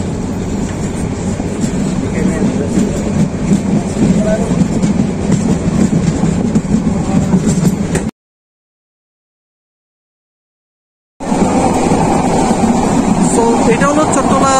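Chattala Express passenger train rolls on after leaving Feni station, a steady onboard rumble with rhythmic clatter of wheels on rail, briefly cut to silence before the running noise resumes.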